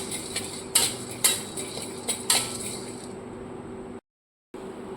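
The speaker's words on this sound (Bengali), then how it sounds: "এটা হালকা একটু ড্রাই রোস্ট করে নিচ্ছি" Whole spices including fennel seeds and cinnamon pieces dry roasting in a pan for Madras-style chicken curry, with several sharp rattling clinks of stirring over a faint sizzle, close, then a brief silence near the end.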